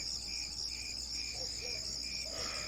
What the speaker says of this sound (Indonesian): yang terdengar hanya suara jangkrik yang bunyi di belakang rumah